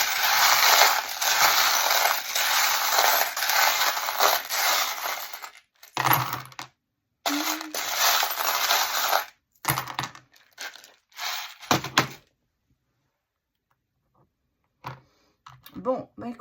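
Small metal charms rattle and clink as they are shaken in the hands and tossed for a divination reading, a loud jangling burst followed by shorter clattering bursts and pauses, with brief near-silence before a few final clicks.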